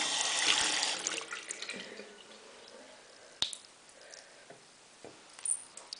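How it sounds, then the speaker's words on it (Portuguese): Warm water running from a tap while a makeup brush is rinsed under it: a soft, close splashing stream that fades over a few seconds, with scattered small drips and clicks afterward. "Depois ligo a água outra vez."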